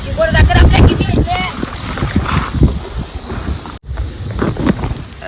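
A boat heads out onto open water for crab fishing, its hull and water noise steady and close under gusty wind, with voices talking over it throughout.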